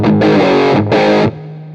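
Two heavily overdriven electric guitar chords are strummed from an Axe-Fx II with reverb added; each is thick and loud, and the second is cut off into a short reverb tail.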